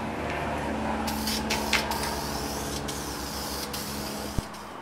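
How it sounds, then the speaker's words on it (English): A spray can of high-temperature gloss clear coat hisses in continuous bursts up close, coating an aluminum Chevy C10 radiator support, with a small sharp tap near the end. "I'm just using the exact same high temp gloss clear coat that I used on it the first time."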